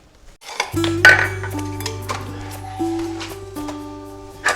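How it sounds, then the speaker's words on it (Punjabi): Metal utensils and pots clinking and clattering as dishes are washed by hand at home, a steady run of close, bright knocks and rings with a low hum beneath. "ਭਾਂਡੇ ਸਾਫ਼ ਕਰਦੀ ਸੀ"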